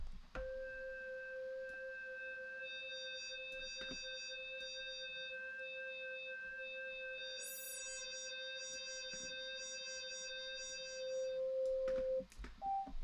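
Sustained synthetic buzzy tone with stacked harmonics, shifting vowel-like color over time, with brief brighter bursts partway through; electronic and steady, no voices.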